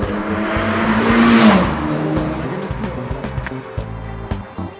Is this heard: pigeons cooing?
no